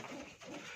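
Pigeons coo softly inside a loft in a brief, close, low burst that rises and falls, with no talking.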